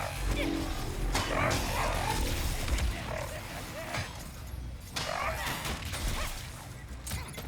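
Dogs bark and growl amid crashing, thumping combat effects in the video game Ratchet and Clank: Rift Apart, a dense, loud mix of game sounds throughout.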